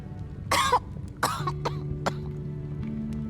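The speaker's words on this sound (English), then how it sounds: "going into a coughing fit" Carmen, a female character in Lost Eidolons: Veil of the Witch, breaks into a coughing fit: two or three sharp, close coughs, then softer throat-clearing sounds over a low, steady game ambience.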